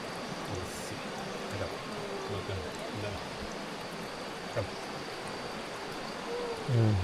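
Flowing stream water on a jungle trek up Gunung Tahan gives a steady broadband rush throughout, with a few soft thumps and faint voices in the background.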